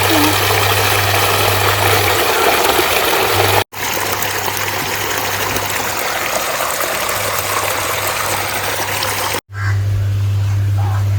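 Water drains out of a home fish pond after the outlet top is pulled off, a loud, steady gushing trickle over a constant low machine hum, broken by two brief cuts.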